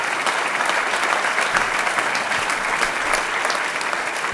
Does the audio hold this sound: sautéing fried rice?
no